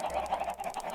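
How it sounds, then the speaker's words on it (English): Loud clucking from chickens in the Minecraft video game, a nasal, honking run of repeated calls that pulses steadily through the moment, heard alone without talk. "those chickens are so loud."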